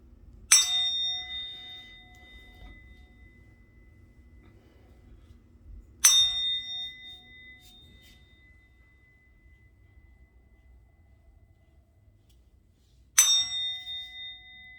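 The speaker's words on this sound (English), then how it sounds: "I'm going to ring the bell." A single bell rings out clearly three times, each bright strike decaying slowly into near silence, spaced several seconds apart with no talk.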